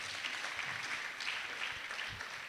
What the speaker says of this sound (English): Can we give her another more warm round of applause?